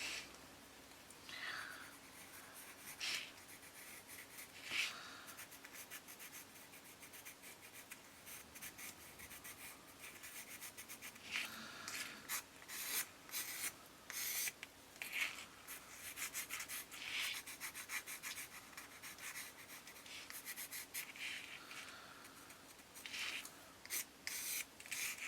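Black detailed charcoal pencil scratching and rubbing on paper in close, quiet strokes, irregular bursts of short scribbles and longer shading passes with brief pauses between.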